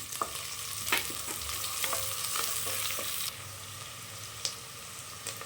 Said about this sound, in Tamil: பெரிய வெங்காயம் சேர்த்துக்கலாம் வெங்காயம் நல்லா வதங்கட்டும்